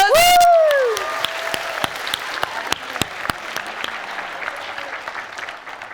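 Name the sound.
applause at a school book award ceremony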